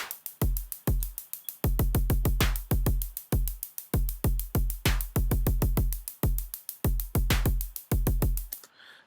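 An electronic drum sequence fires deep, booming tonal hits alongside sharp hi-hat and snare strikes in an irregular, somewhat chaotic rhythm, clear and alone.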